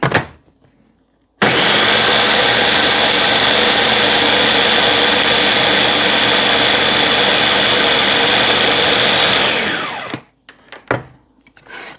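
A blender grinds a mocha frappe mixture in a loud, steady whir for about eight seconds, then winds down, followed by a few faint clunks.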